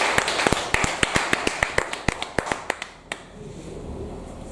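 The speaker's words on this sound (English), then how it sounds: "So a round of applause for all of you." Scattered hand claps from a small audience at a book review event, about twenty sharp separate claps over three seconds, then quiet room tone.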